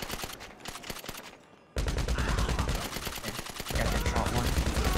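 Rapid automatic gunfire in GTA V, including a Combat PDW, rattles in dense continuous bursts, briefly thinning before swelling into a louder sustained barrage, with a voice talking over it.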